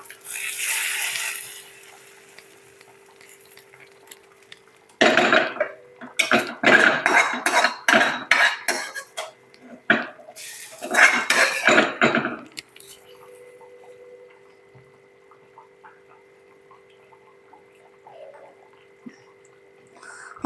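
Fried onions poured into a pot of Kerala mackerel curry and stirred, giving bursts of sizzling and scraping in two loud stretches, then quiet with a faint steady hum.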